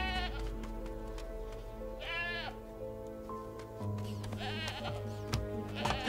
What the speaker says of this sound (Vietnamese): Bỏ con dê ra.